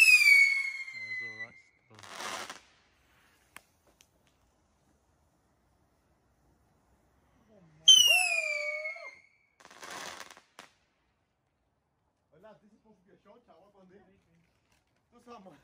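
Fireworks on Bonfire Night: whistling rockets climb, each followed by a crackling burst, first near the start and again about halfway through, loud and close, with faint voices and small pops between them.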